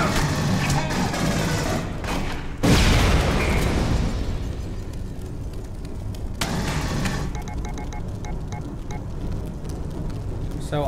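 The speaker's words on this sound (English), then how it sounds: "Let's do some more shooting." Gunfire and explosions from the Aliens: Colonial Marines video game: dense bursts of shots with a heavy boom near the three-second mark, then more crackling fire and rattling pops, loud throughout.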